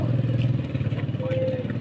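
A motorcycle engine runs steadily nearby with a low, throbbing idle, heard under talk in a cold rural setting.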